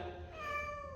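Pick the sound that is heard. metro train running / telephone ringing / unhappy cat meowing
unhappy cat meowing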